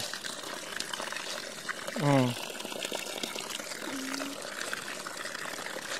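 Water runs steadily from a tap while ipil-ipil is rinsed, a constant soft splashing hiss throughout. A voice speaks briefly over it.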